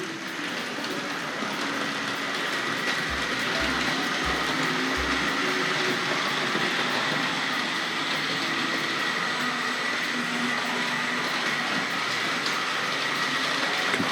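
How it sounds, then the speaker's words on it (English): A Hornby Battle of Britain class model locomotive, Spitfire, running on a layout, giving a steady mechanical whir with a soft rail clatter and a few brief low thumps early on. "Completely different sort of sound, this model, to the earlier Triangle Railways ones."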